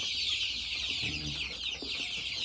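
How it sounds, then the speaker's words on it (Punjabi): A young desi chicken gives a few soft, low clucks in the middle of a quiet farmyard, with a constant high hiss of background insects or ambience and no voices. "ਲਓ ਜੀ ਇੱਕ ਦੇਸੀ ਚੂਚਾ"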